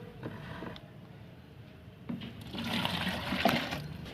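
Water fills a garden pot holding liquid fertilizer made from soaked cow dung cakes, quiet at first and then a steady, rising gush of pouring liquid close by.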